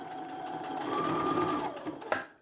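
A sewing machine stitches a crossbody bag in a steady, continuous run of rapid needle strokes, close and fairly loud, ending with a brief clunk as the stitching stops.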